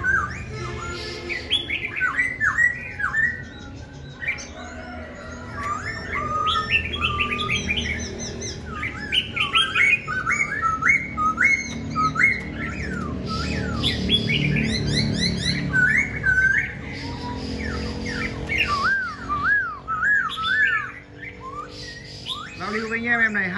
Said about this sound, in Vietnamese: Chim hót rất là tốt luôn các bác nhá.